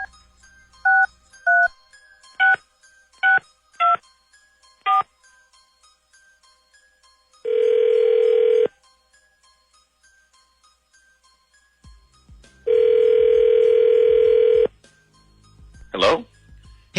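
DTMF keypad tones dialing a phone number in a quick uneven run of beeps, followed by two long steady ringback tones on the line, each about a second or two, with a brief click near the end.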